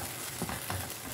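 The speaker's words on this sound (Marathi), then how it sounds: "हे पण मी थोडंसं 2 मिनिटं परतून घेत आहे" Ground sweet corn sautés in a hot pan, a continuous close sizzle and frying hiss with soft stirring scrapes over it.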